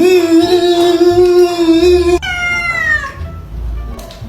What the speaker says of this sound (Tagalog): May pusa pala kayo?